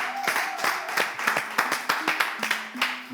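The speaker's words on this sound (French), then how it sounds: "Est-ce qu'on peut juste applaudir encore notre championne?" An audience applauds a champion with continuous, moderately loud clapping and accented claps throughout, while a voice sounds faintly underneath.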